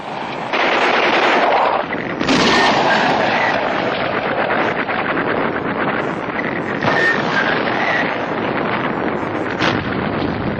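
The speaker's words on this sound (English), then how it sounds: "From further back, the artillery is feeling for the range." World War II newsreel combat audio from a Pacific ridge riddled with Japanese foxholes: loud, continuous rattling gunfire and rough blasts fill the track with a constant roar, with no voices heard.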